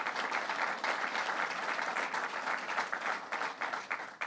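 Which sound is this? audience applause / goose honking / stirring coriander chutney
audience applause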